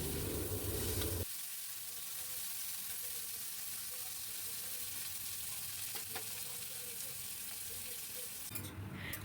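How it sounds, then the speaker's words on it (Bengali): Sliced bitter gourd sizzles and crackles steadily in hot oil, a dense continuous fry that runs close and even, with a louder burst at the start and a brief clatter near the end. "তেল ভালো করে গরম করে কেটে রাখা উচ্ছেগুলোকে আগে একটু ভেজে নেব"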